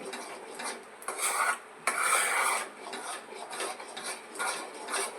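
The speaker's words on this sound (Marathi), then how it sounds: "घट्ट सर्व होईपर्यंत ढवळत राहायचं" A spoon scrapes against a pan while stirring a thick, lumpy batter for spicy patwadi; close, rasping strokes repeat in an uneven rhythm with brief pauses between them.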